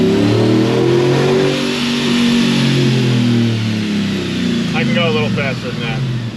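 A Callaway 560hp Chevrolet Tahoe engine roars close and loud, pulling hard as it climbs and falls in pitch through gear changes. A voice speaks briefly beneath the engine near the end.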